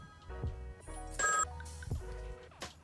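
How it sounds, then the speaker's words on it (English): A telephone rings with a bright electronic trill in repeating bursts, fairly close and clear, over quiet background noise with no one talking. "Did our phone just ring?"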